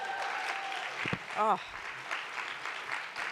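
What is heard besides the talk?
audience applause for Monica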